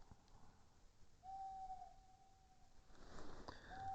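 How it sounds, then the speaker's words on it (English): Owls hoot at night in a quiet forest in the video game Legend of Dragoon: one long, steady, faint hoot over soft ambience, with a second hoot starting just as the sound ends. "The night owls are hooting."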